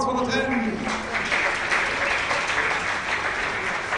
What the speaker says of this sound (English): Big applause for the 10.